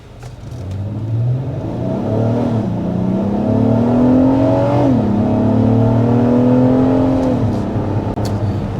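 A 2025 Acura MDX A-Spec pulling away from a red light in sport mode, its engine rising loudly through steady gear changes in a close, continuous acceleration with no talk.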